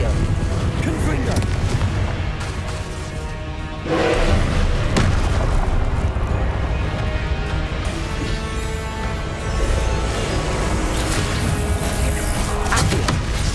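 Confringo blasting spells explode again and again in Hogwarts Legacy combat, a dense run of loud booms and crashing impacts layered over one another, with a big burst near the middle and spoken spell calls mixed in.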